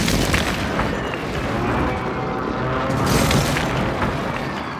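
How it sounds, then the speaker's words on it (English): Airstrike bombardment in the shooter game Warzone 3, a loud, continuous low rumble of booming blasts that swell and overlap for several seconds, close and heavy, with no voices. "airstrike"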